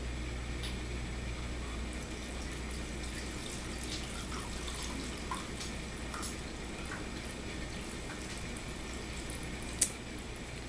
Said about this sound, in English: I'll just start pouring.